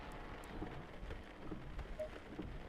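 Rain falls in a racing simulator at Watkins Glen with the Lexus on a wet track, a faint, steady patter with soft low rumbles and no voices.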